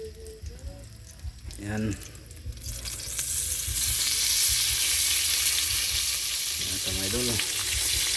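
Fish hits hot oil in a pan and erupts into loud, continuous sizzling frying that persists steadily, with someone speaking briefly over it at the start and again later.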